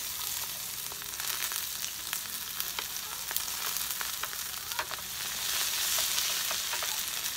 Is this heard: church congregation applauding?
no